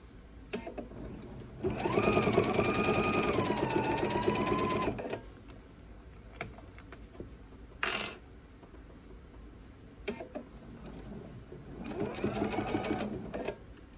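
A sewing machine stitches past a seam on a fabric bowl cozy in short bursts: a close, steady whirring run of about three seconds, a brief clack, then a shorter second run after a pause.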